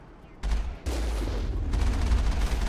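Weapon fire in Mass Effect hits in loud, heavy bursts, a sudden boom followed by sustained rumbling fusillade with a few sharper spikes, close and dominant.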